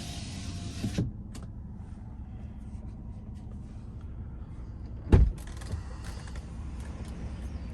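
A low electric motor hum runs steadily, broken by a sharp mechanical clunk near the end as the power sliding rear window of a 2018 GMC Sierra 1500 pickup stops, with faint cabin ambience throughout.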